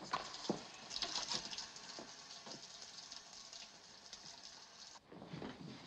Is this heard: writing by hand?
no